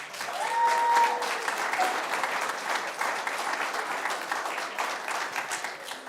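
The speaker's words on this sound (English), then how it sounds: "Applause, please." Members of a Unitarian Universalist congregation applaud at a Sunday service, a sustained burst of many hands clapping that swells early and then holds at a steady level.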